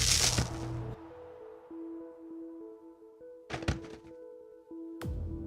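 A gunshot in the sci-fi adventure game Technobabylon rings out as a loud, sharp blast that decays into a low electronic hum, followed by two shorter bursts later on.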